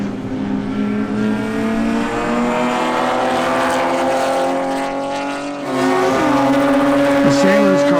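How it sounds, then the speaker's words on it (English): A Nissan 370Z chasing an LS V8-swapped Porsche 944 race car on track, with loud sustained engine drone and rising revs, and a second engine pitch coming in near the end. "Look at this Nissan 370Z chasing that V8 powered Porsche 944 with an LS"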